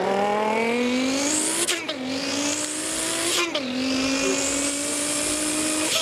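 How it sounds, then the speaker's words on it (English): A car engine revs and accelerates hard through several gear changes, each shift marked by a sudden drop in pitch before the engine climbs again, loud and sustained. "the car's moving"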